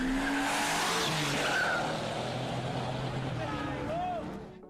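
A BMW and a Fox body Mustang street racing in New York City make loud, continuous engine roar with repeated tire squeals, and voices are heard in the background.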